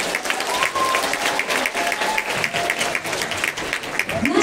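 Enthusiastic clapping from parents and pupils at a primary school graduation ceremony, dense and sustained across the whole stretch, with voices audible under it and a swell near the end.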